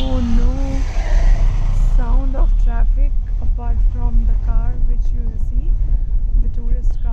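A car passes close by with a steady engine roar and road noise, while a person talks over it throughout.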